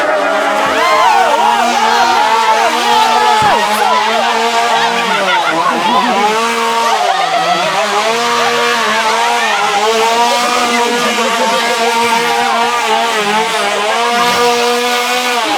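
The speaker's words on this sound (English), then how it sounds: "Why did they give that clown a chainsaw?" A chainsaw revved by a clown actor in a haunted house roars loud and close without pause, its pitch rising and falling through repeated throttle surges, with voices shouting over it.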